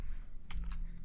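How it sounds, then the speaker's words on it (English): Keys clatter on a computer keyboard as a web address is typed, two short bursts of clicks close by over a quiet room hum. "I'm going to go ahead and type in"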